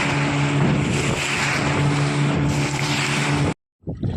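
A motorboat engine drones steadily with a low hum and splashing water, then cuts off abruptly before a brief scrape near the end.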